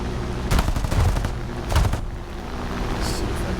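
A 37mm aircraft cannon fires in the War Thunder video game, loud bursts of heavy gunfire around the half-second and near-two-second marks over a steady engine drone.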